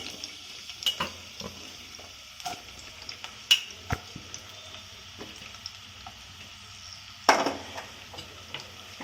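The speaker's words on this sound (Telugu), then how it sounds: "నూనె కాక ఆనియన్ వేసుకోవాలి" Onions fry in hot oil for chicken fry, with a soft, steady sizzle under intermittent spatula scrapes and metallic clinks against the pan, close and fairly quiet.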